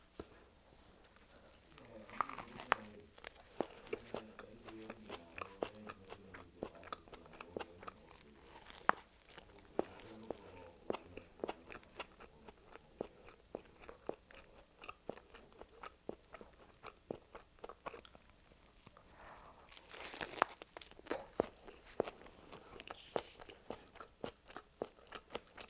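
An A&W burger with added lettuce, tomato, onion and cheese is eaten close to the microphone, with repeated soft bites, crunches and wet chewing spread over a long, quiet stretch.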